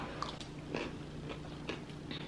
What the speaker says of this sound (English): What's that crunchiness? Granola.